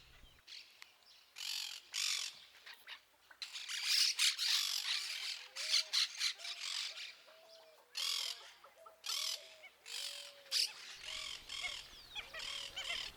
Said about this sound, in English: The quiet river that flows along the campground is home to all sorts of birds